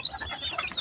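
Chickens on a city rooftop farm cluck softly in a short burst, with faint bird-like chirps over a low background murmur.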